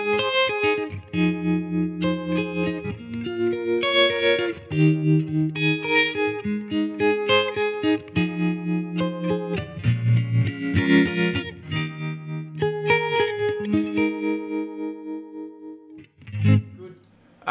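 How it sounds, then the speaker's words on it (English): Electric guitar run through a 60s bias tremolo effect on a Line 6 Helix, sustained chords and notes pulsing steadily with a wavering, chorused, slightly distorted tone, played loud and close for the whole stretch with a brief pause near the end. "So I went with the 60s bias trem."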